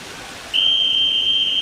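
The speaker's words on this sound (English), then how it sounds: "The whistle is blown" A single long, shrill whistle blast starts abruptly and holds steady over a hushed, echoing arena ambience, calling swimmers to the blocks at the Paris 2024 Olympics in La Défense Arena.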